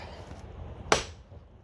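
One sharp hammer strike on wood being split by hand rings out against a quiet background, a single crisp crack with a quick decay.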